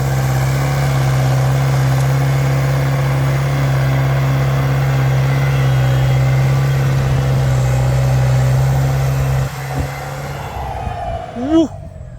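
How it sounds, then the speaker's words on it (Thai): A turbocharged Ford car engine idles with a steady drone, then revs briefly near the end with a rising turbo whine, close by. "เสียงเทอร์โบนี่ไม่ธรรมดานะ"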